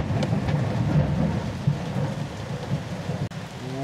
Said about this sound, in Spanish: Habéis escuchado el trueno, el rayo